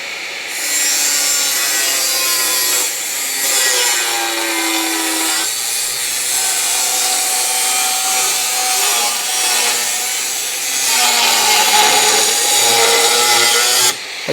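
Angle-grinder-type power tool with a delaminating abrasive cutting disc, working on a Crew Cab Charger restoration, runs loud and continuously for the whole stretch, a harsh grinding, sawing roar with shifting pitch as it bites into the metal.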